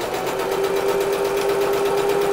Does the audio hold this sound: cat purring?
no